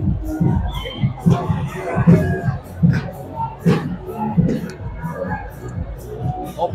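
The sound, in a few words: football supporters cheering at the stadium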